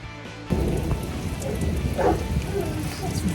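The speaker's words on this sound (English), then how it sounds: "it's really rainy." Heavy rain pours down steadily on a farm during a flooding downpour, a dense, loud, continuous hiss that starts abruptly and holds without a break to the end.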